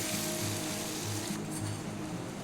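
Spices such as coriander powder frying slowly in a pan over medium-low gas, a soft continuous sizzle with faint low hum and a few light stirring movements, close and quiet.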